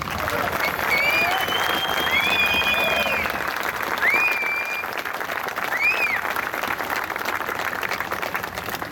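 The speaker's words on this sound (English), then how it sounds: "Please give our hero, Major General John Borley, a round of applause" An outdoor crowd at a veterans memorial motorcycle ride opening ceremony applauds a major general, a steady wash of clapping with a few whistles cutting through, continuous and fairly loud across the whole stretch.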